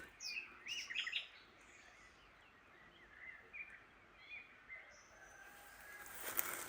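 Several birds chirp and tweet outdoors in short, scattered bursts over a soft, steady background hiss, fairly faint and somewhat distant.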